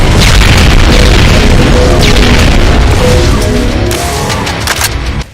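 A loud, booming sci-fi energy blast that explodes and rumbles on, gradually fading over several seconds.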